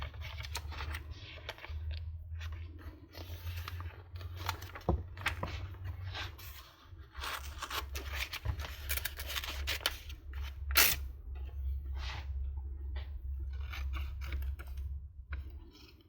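Scissors trim paper in a glue book session, giving repeated short crisp snips and rustles over a low steady background hum.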